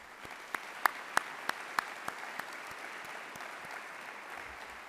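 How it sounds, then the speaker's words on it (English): A small group at a university convocation claps for a few seconds, scattered distinct claps rather than a full roar, fading out quickly. "let's give our award recipients a big round of applause in advance."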